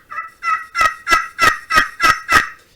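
A hand-operated turkey hunting call makes seven sharp, evenly spaced yelps, close and loud. It is played outdoors in rain and wind.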